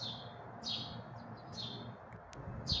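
Many birds chirping outdoors in summer near flowering plants, with repeated bright high tweets at a steady rhythm over a soft background hum, moderately close.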